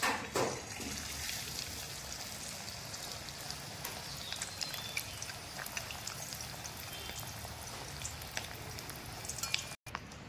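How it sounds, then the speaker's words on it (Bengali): Sago luchi (fried puffed bread made without wheat flour) dropped into hot oil, giving a steady faint sizzle and crackle like light rain throughout, with a brief gap near the end and no speech. "তেলটা গরম হয়ে গেছে, এবার আমি ছেড়ে দিচ্ছি।"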